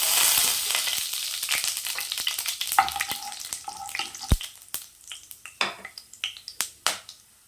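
Whole spices (cinnamon, cloves, a cardamom pod, marathi moggu, star anise and mace) hit hot oil in a kadai for egg biryani with a loud initial sizzle that thins into scattered sharp pops and crackles.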